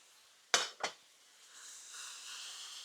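A cheap budget steak goes into a frying pan with two sharp metallic clanks, followed by a soft, steady sizzle.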